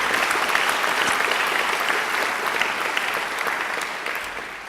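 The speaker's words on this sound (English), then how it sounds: "I think she deserves another great round of applause." An audience at a university graduation ceremony gives a singer a full, loud round of applause, a thick, continuous wash of clapping that holds steady and eases off slightly at the end.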